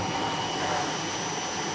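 A Whittle jet engine turning at about 5,000 RPM gives a steady, broad roar with a high whine on top. It is loud and continuous, with no talk over it.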